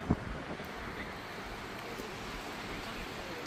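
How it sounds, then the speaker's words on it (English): Steady wind blows outdoors on a windy day at a seaside sculpture exhibition, a constant broadband rush with a small bump at the start and no talk. "Today's a rather windy day, so you can see it in action,"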